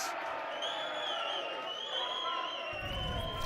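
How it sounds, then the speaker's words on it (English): An appreciative crowd cheers at an over-60s men's indoor cricket grand final, the steady crowd noise sitting under high, sustained tonal sounds. A short louder burst comes near the end. "Appreciative crowd here."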